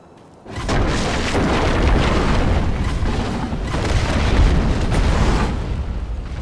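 Firecrackers going off in the video game Sekiro: a sudden loud burst starts a sustained, crackling, booming barrage of overlapping pops that rolls on without a break.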